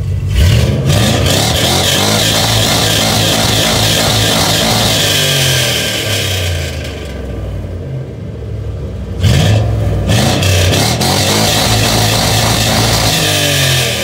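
A Dodge Challenger engine roars and revs loudly at close range, a deep rumbling grumble that eases off briefly midway before surging again.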